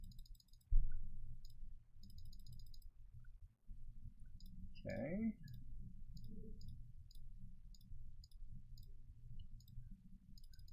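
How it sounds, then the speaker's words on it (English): A computer mouse clicks faintly and repeatedly during a live-streamed game, the quick clicks arriving in small clusters over a low background hum. A single brief spoken word breaks in partway through. "I'm gonna do a lot of clicking at this point"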